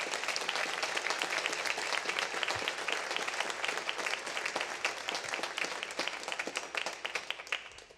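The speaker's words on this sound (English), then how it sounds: "Let's give everybody that donated a big round of applause." Audience at a center dedication event bursts into sustained applause, many hands clapping in a dense crackle that stays steady and fades slightly toward the end.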